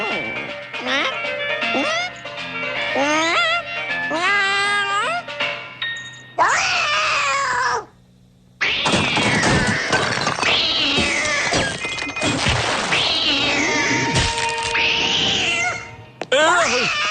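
A cartoon cat meows and caterwauls in a run of drawn-out, wavering yowls and cries with short gaps between them, loud and close, joined by a few brief dings.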